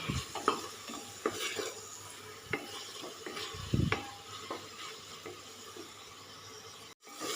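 Tomatoes softening in a pan for Punjabi aloo chana, a steady sizzle and frying hiss with repeated scrapes and knocks of a stirring spoon against the pan, close and moderately loud, with no voices.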